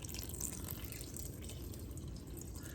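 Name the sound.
warm water poured into poolish bread starter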